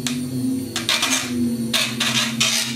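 A cheap $7 hand mixer churns acrylic paint for paint pouring, giving a steady close motor hum broken by recurring louder bursts of whirring, splattering noise.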